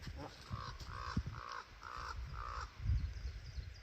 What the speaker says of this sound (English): Is that a crow?